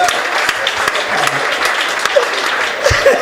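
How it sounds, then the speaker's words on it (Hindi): Loud audience applause at a live comedy show, a thick burst of clapping running throughout with a few stray louder claps and faint voices mixed in. "अब एक बार जोरदार तालियां"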